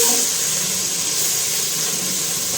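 Hot oil with asafoetida, capsicum, chilli and ginger sizzles loudly and steadily, a dense continuous hiss close by with no talking.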